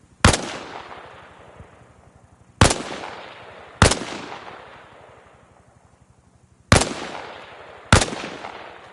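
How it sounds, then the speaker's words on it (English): Five loud rifle shots ring out at targets on a video game shooting range, each a sharp crack with a decaying tail, spaced unevenly over several seconds. "I'm popping 5 targets. I want to hear 5 shots."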